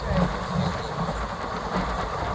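A passenger train on the run toward Dwarka rumbles steadily at around 70–80 km/h, with a continuous low roar and faint rhythmic track clatter heard from inside the carriage.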